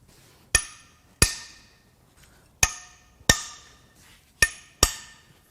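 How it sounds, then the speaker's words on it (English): Six sharp metallic cracks sound at uneven intervals as head bolts on a BMW 328i N20 engine are broken loose with a tool. The clicks are close and crisp and separated by quiet gaps. "so I can crack these head bolts loose"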